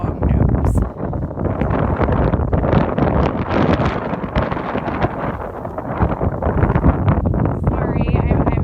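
Wind buffets a microphone outdoors on the coast at Año Nuevo State Park, a gusty, rough low roar that swells and fades for several seconds while a person keeps talking over it.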